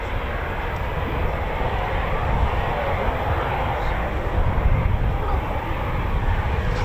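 RAF Eurofighter Typhoon FGR4 jets near the air base, their engine roar a broad, continuous rumble heard from a distance that swells slightly toward the end, without voices.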